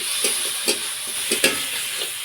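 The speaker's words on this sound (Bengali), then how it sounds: "এখন সামান্য জল দিয়ে মশলাটা খুব ভালো করে কষিয়ে নেব" Spices with Kashmiri chilli powder and a splash of water sautéing in a pan: a bright steady sizzle punctuated by several short scraping stirs of a spoon, close and fairly loud.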